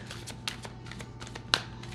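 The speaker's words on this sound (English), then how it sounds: "These cards are really big, so I gotta shuffle different" Large tarot cards are shuffled by hand in a quiet, close series of soft riffling flicks and slaps, with one sharper snap near the end.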